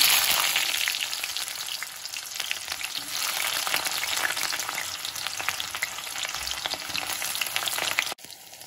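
Onions fry in hot oil in a wok with a dense, crackling sizzle, close and continuous, dropping suddenly to a quieter hiss at the very end.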